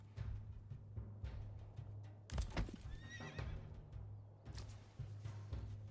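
A horse in the medieval city-building game Manor Lords whinnies loudly in a rising, wavering neigh, surrounded by hoof clip-clops and a steady low background hum.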